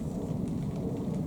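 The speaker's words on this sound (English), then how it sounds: "It's rain, I think it's rain." Steady rain falls in the woods at a campsite, a continuous dense patter with a low rumbling wash and no other distinct events, moderately loud throughout.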